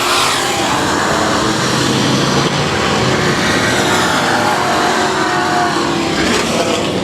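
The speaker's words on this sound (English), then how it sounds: "our leader, Landon Farquhar, hangs on to it, negotiates the backstretch in turn number 3, still trying to get around the lap car of Gary Hunter, the 14 machine." Race cars roar around a South Texas Speedway oval, a loud, continuous wash of engine noise with several cars running together and no clear gaps.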